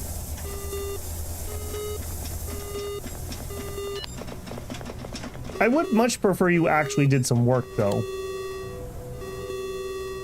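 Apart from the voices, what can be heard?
alarms beeping in the video game Ostranauts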